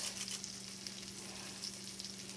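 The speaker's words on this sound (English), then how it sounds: "My veggies is cooking on the side." Vegetables sizzle and fry steadily in a pan, a soft continuous crackle with small pops, quiet and close, no voices.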